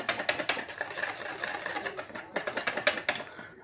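Pancake batter whisked quickly by hand in a bowl for a traditional English pancake, giving a steady run of rapid, close tapping and slapping strokes with brief pauses between bursts.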